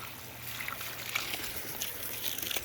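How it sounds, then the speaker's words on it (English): Water gushes steadily out of an opened valve on a pressurized koi pond filter, a continuous close trickling and splashing wash with no talking. "you can tell that the valve is opened when you see water coming out here"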